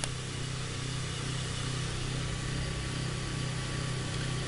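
A PWM-driven DC motor spins a star-wired three-phase generator under short and load, giving a steady, continuous motor hum with a constant low drone and broadband whine that holds even and unbroken throughout.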